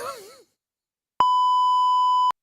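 A single clean electronic beep tone, loud and steady for about a second, sounding alone after a brief wavering warble fades out.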